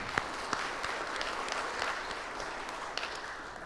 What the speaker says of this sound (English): let's give them a hand of applause for doing that